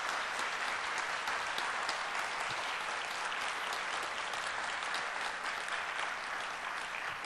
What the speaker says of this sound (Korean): 우리 박수로 고마움 표하겠습니다